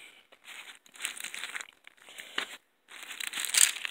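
Glassine bags crinkle and rustle in bursts as they are handled up close, with short pauses between and no voices.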